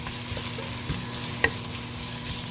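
Pork stir-fried with onions sizzles steadily in a hot pan, with a constant crackling hiss and a few soft clicks of stirring, close up and without any talking.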